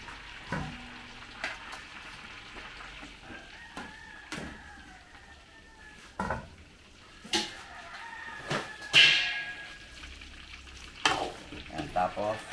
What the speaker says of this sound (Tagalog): Tapos, prito natin yung saging.